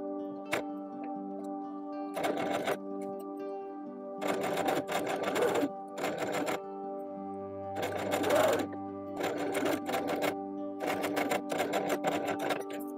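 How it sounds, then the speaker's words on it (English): A sewing machine stitches a pressed line on a small doll blouse in several short bursts of rapid mechanical clatter separated by pauses, recorded close with a faint steady hum underneath. "Now I'll sew along this pressed line."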